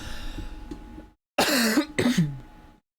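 Two harsh coughs burst close into a microphone a moment apart after a short silence, loud and raspy, with a breathy murmur before them.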